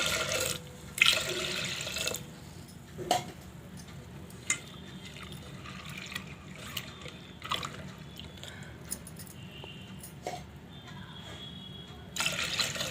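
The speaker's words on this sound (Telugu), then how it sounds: "ఈ కుక్కర్లోకి సరిపడినంత వాటర్ పోస్తున్నాను" Water splashes and trickles into a metal pressure cooker, with occasional clanks and drips over a low background hum.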